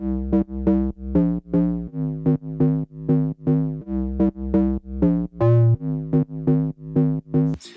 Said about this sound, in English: We've got a bass layer in here, which sounds like this